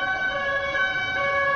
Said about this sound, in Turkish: Siren seslerini duyuyorsunuz.